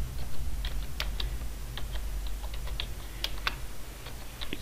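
Fingers typing text on a keyboard, a steady run of light, irregular key clicks close by over a low constant hum, with no talking.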